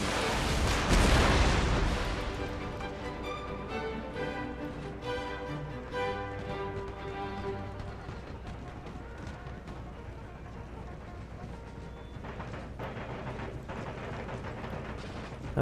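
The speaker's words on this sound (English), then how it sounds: "Our puckle guns are shooting their artillery." Puckle guns open fire on a battlefield in a Napoleonic-era strategy game, a loud burst of booming gunfire that quickly gives way to steady orchestral music carrying on beneath scattered distant battle noise.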